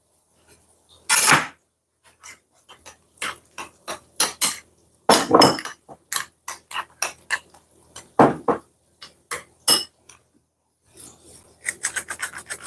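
A knife chops cooked onion on a board in a home kitchen, the sharp uneven cuts coming in quick close bursts with short pauses and no talking.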